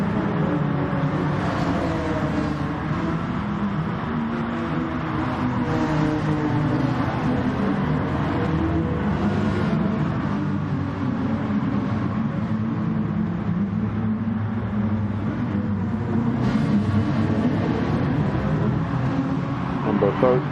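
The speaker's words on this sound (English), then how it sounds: "There's the car I'm driving, the Honda NSX." Engine of a Honda NSX race car in a cup race in a racing video game, a steady loud drone with shifting pitch that runs the whole time alongside other cars.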